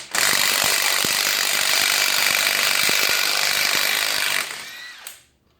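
A DeWalt DCF880 half-inch impact wrench runs in one loud, continuous burst for about four seconds, then winds down and cuts off, heard up close with no talking.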